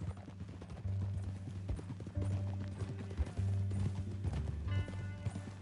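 Horse hooves clip-clop in steady rhythmic bursts in the video game Red Dead Redemption 2, close and clear over a low ambient bed, with brief pauses between strides.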